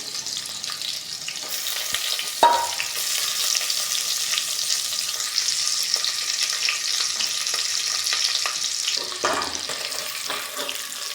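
Egg roast, the Indian egg dish, sizzles steadily in a pan, a continuous bright frying hiss with a couple of sharp clinks and stirring scrapes along the way.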